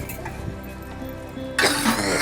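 An elderly woman coughs in a sudden, fairly loud burst near the end, over a steady background of soft music.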